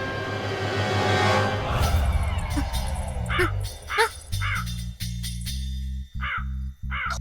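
A crow caws repeatedly, several sharp harsh calls in a row, loud and close, over a steady low hum and some background noise.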